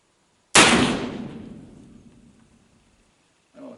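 A cap and ball revolver with lubed chambers and no wads fires one loud, close shot that rings out and decays slowly over a couple of seconds, followed by a brief faint sound.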